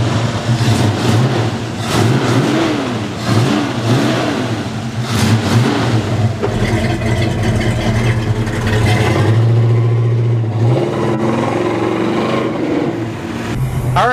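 A 1967 Pontiac GTO muscle car engine revs repeatedly, throaty rises and falls in pitch, then settles into a steady loud drone before more blips, heard up close without talk.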